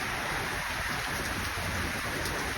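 Heavy evening rain pours down in a dense, unbroken hiss, loud and steady throughout with no voices.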